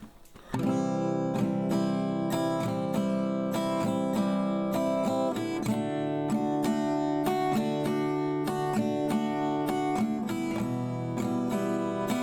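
Acoustic guitar strummed in a steady down-up pattern through a chord progression for a pop song, close and even, each stroke crisp with ringing chords and no voice over it.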